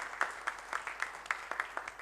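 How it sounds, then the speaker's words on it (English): An audience at a medical conference breaks into a round of applause, the crowd's claps dense and steady with a light rhythmic pulse, heard from a moderate distance. "Can we have a big round of applause for our own selves?"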